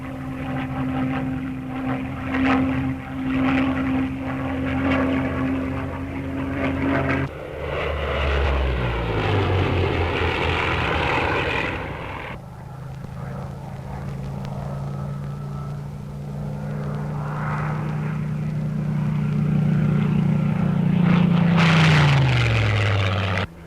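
A Supermarine Spitfire Mk IX flies past with a loud, sustained piston-engine roar, the pitch sliding downward as it passes, then another steady drone that rises and swells before dropping away near the end.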